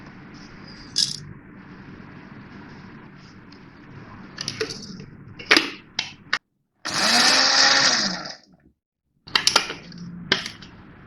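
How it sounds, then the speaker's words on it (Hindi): A small electric chopper coarsely grinds six whole spices in short bursts: rattling, clattering pulses of the blades, then one longer whirring run, with brief silences and knocks between them. "इन 6 मसालों को मैं दरदरा सा पीस लूँगी। तो मैं इसमें डाल रही हूँ छोटे वाले चॉपर में।"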